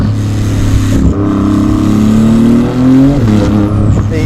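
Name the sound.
Porsche GT2 RS turbocharged exhaust revving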